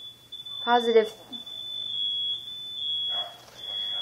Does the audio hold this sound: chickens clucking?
no